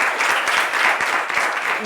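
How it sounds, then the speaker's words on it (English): A steady wash of audience applause, the group of schoolgirls clapping all together, loud and close throughout with no voices over it. "Round of applause for yourselves."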